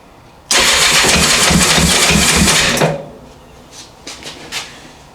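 A 1984 Honda CB700SC motorcycle engine cranking hard for about two seconds with a rhythmic starter whir and loud churning, stopping abruptly without catching, followed by faint clicks and knocks close by.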